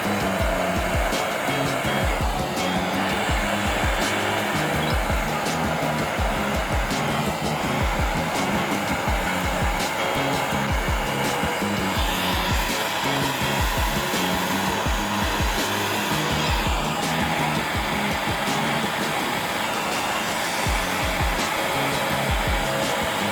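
A brazing torch heats a joint on a fixture table, producing a loud, steady roaring hiss that runs unbroken from start to finish.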